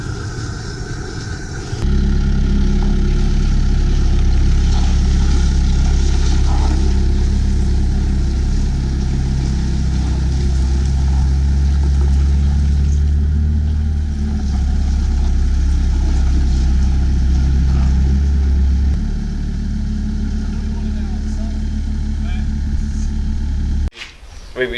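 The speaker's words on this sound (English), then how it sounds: "Tim is using the gas torch to dry off the chassis, so it's all dry and clean for us to work on." A gas torch dries off a washed-down car chassis during a pre-rally restoration, giving a loud, steady close-up roar that holds unbroken for more than twenty seconds before cutting out.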